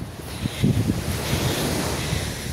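Sea waves roll and wash onto a clean beach at Botolan, Zambales, a steady broadband surf wash with wind buffeting the microphone and no voices.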